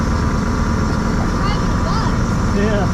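Converted mural van on its first drive with fixed brakes and new pulleys, a steady low engine and road rumble heard from inside the cabin, loud and continuous, with voices talking over it.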